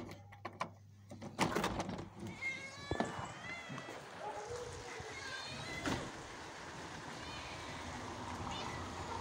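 Cats meow repeatedly in a rainy outdoor spot where tomcats keep attacking, with rising and falling cries over steady rain, plus some scuffling and a door-like clatter early on.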